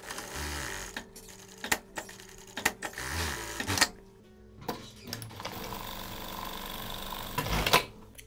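Sewing machine stitching only the curved seams of an asymmetric jumpsuit, the shoulder skipped, running in short close bursts of rapid needle chatter with brief pauses between runs.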